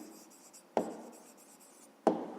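Pen writing an answer by hand on paper during a 5th-grade maths exercise: soft continuous scratching strokes close up, punctuated by two sharp taps about a second apart, with no voices.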